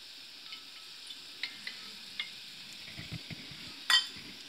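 Oil sizzling in a cooking pot at the start of an Afghan-style mash dal, a thin, even hiss with scattered light taps and one louder clink of a utensil near the end, close and quiet.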